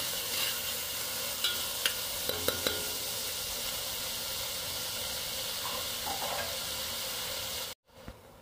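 Chopped onions and green chillies fry in a pan for a mutton curry. A constant soft sizzle runs under occasional scraping clicks from stirring, then the sound cuts off abruptly near the end.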